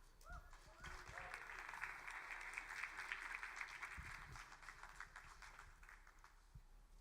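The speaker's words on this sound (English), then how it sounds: "Please give a huge round of applause to Michelle Huang." A conference audience at an AI awards session applauds as Michelle Huang is introduced, a steady, fairly distant wash of clapping across the room with faint voices underneath and a low hum.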